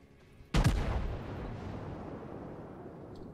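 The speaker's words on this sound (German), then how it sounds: "Schüsse sind in der Luft." A single heavy battleship cannon blast in the World of Warships video game booms out suddenly, then a long rumbling echo fades slowly over the next few seconds.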